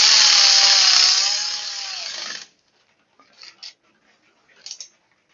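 Cordless ratchet tightening bolts on a John Deere L120 riding mower with a V-twin Briggs & Stratton engine, a loud whirring burst of about two seconds that winds down, followed by faint clicks and handling noises.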